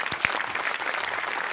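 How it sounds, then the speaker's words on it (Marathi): A studio audience at a Marathi comedy show bursts into loud, dense applause, a short burst of continuous clapping from many hands close by. "एकदा जोरदार टाळ्या."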